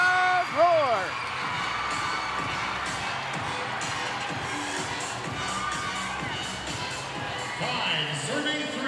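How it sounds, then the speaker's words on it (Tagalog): Crowd roaring and cheering in a packed volleyball arena during a women's professional match, a steady loud wash of voices with shouts rising and falling, a commentator talking over it. "And listen to this crowd roar!"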